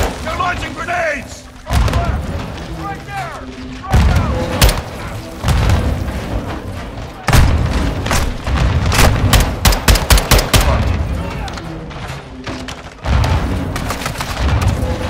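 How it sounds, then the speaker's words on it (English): Grenade explosions and rifle fire in Call of Duty Modern Warfare 2, with heavy booms and rapid bursts of shots crowding together near and loud, while voices shout over the battle. "Incoming! Take cover! They're launching grenades!"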